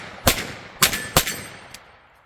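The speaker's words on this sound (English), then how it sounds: "let's shoot a couple of more shots, finish off this magazine, and see what it'll do here" A Kel-Tec Sub2k 9mm carbine fires three sharp shots in irregular succession outdoors, each crack loud and close with a short echo, followed by a fainter fourth report.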